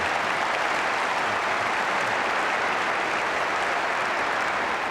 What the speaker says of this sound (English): Applaud him for that.